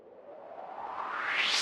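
A whooshing noise sweep rises steadily in pitch and brightness, swelling louder over about a second and a half.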